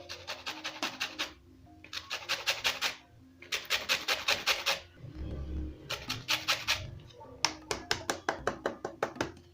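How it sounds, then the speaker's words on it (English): Lemon zest is grated in quick bursts of rhythmic rasping strokes against a grater, close and crisp, with short pauses between rounds. "Then I'm going to grate the zest."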